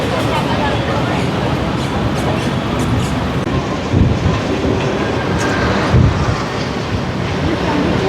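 A Mumbai local train on the CSMT to Khopoli line runs near Ghatkopar station platform 3, giving a loud continuous rumble and rattle with wind noise, a couple of heavier thumps midway and faint voices in the background.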